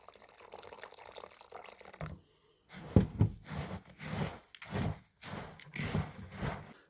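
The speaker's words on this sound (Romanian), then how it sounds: "Vom adăuga apă călduță să umezim această compoziție." Lukewarm water is poured in several short bursts onto a yeast and grain mash for chickens, close-up splashing pours separated by brief pauses, with no voices.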